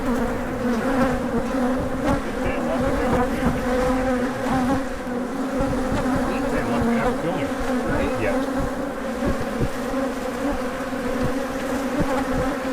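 Dense, steady buzzing of many wasps, the kind often mistaken for honeybees, swarms close by without pause for the whole stretch, with no voices.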